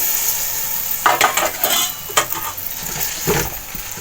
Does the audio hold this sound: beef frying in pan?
yes